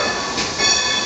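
A steam locomotive train passing through rural Pennsylvania, heard as a steady, loud rail rumble with a brief swell partway through and no voices.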